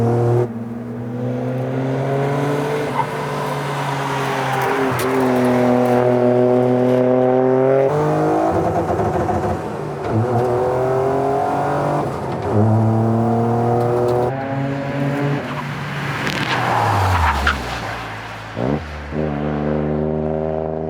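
A hydrogen-engine Toyota Corolla race car roars continuously, its pitch climbing and falling through repeated gear changes as it accelerates, loud and close throughout.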